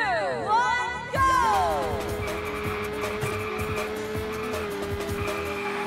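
Retro Formula race cars in a VR arcade racing game roar off the line, rising engine whines sweeping upward at the start, then a sustained loud drone with tire squeals and skids, with a voice speaking briefly underneath.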